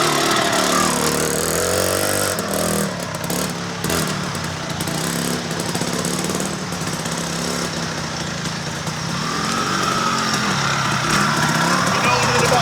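A 1973 Penton 175 Jackpiner enduro motorcycle with a KTM engine runs loud and close, a continuous raspy two-stroke-style drone that barely varies.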